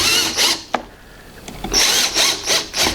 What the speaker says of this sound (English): Want to do up each screw